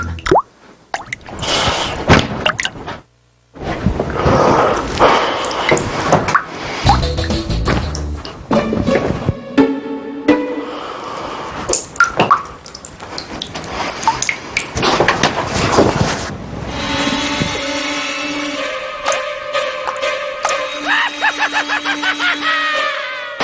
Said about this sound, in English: two integrated circuit chips connected to a speaker that's making the sound